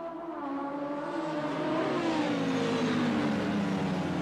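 Racing motorcycles at Suzuka Circuit drone past, a loud sustained engine whine that swells and slowly falls in pitch as the bikes rush by, continuous and close.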